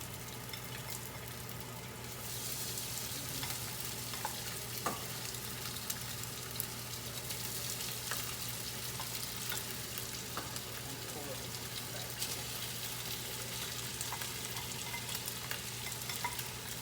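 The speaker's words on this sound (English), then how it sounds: "Slowly fry it." Ingredients for zha jiang mian fry slowly in a pan, a steady continuous sizzle with occasional stirring scrapes, close and moderately loud throughout with no talking.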